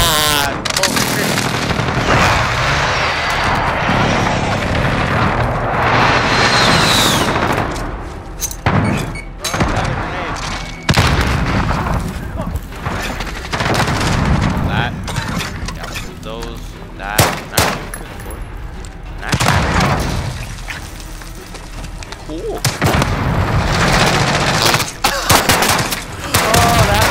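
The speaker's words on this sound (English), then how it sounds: "Allied precision airstrike incoming." Airstrike blasts in Call of Duty: Modern Warfare (2019) land as a loud, dense barrage of booms and gunfire-like cracks, heavy at the start and returning in clusters, while a player talks over the chaos.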